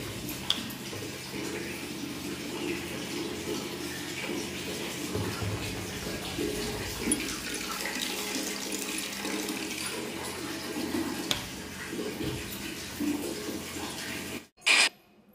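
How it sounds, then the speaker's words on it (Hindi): Water from a storage tank runs from a tap into a bucket in a steady, continuous splashing stream for about fourteen seconds, then stops abruptly, followed by a brief clatter. No one speaks. "तो मैं इनके लिए टंकी का ही पानी लेती हूँ।"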